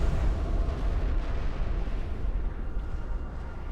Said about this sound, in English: The Colossus is down! The bigger they are, the bigger their explosion.